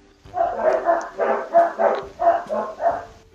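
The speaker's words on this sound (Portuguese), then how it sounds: "deixa o cachorro parar de latir" Several dogs bark repeatedly at close range, about ten sharp barks in quick succession over a few seconds, with no talk over them.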